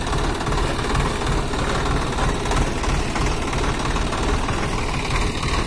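A Swaraj 744 XT tractor strains to haul a trolley loaded with wet cow-dung manure, its heavy diesel engine chugging in a loud, continuous, rough knocking throb close by, with no voices.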